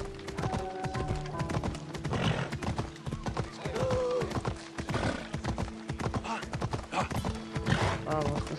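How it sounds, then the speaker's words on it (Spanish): Rhythmic hoofbeats of a galloping horse clatter steadily throughout, with a brief whinny partway through and game music and effects underneath, in Assassin's Creed Odyssey. "Vamos, Sandra, dale caña al caballo."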